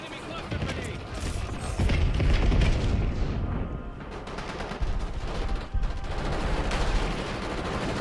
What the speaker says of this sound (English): Eyes on enemy cluster grenade.